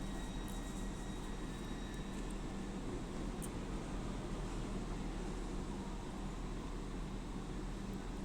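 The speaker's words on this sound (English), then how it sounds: "the 1421 to Leeds has shown up, so I'll get her once she departs" A TransPennine Express train, the 14:21 service to Leeds, pulls out of Manchester Victoria station with a steady, broad rumble that holds evenly throughout and has no voices over it.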